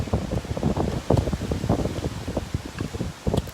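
Strong wind blowing outdoors, gusting and buffeting in rough bursts close to the microphone, loud and continuous through the short stretch with no talk.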